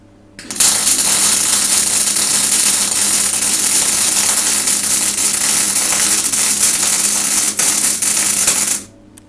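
A MIG welder powered from a fire-extinguisher-based setup lays a second weld seam, producing a loud, continuous crackling sizzle that holds steady for about eight seconds before cutting off abruptly.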